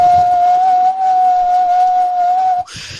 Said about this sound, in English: constant droning whistle, the sound of wind traveling through a very specific shape